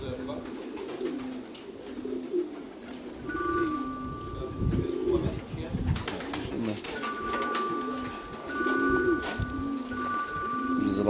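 Racing pigeons coo in low, repeated throaty phrases near a loft, with scattered wing flaps and chirps, while people talk intermittently over them.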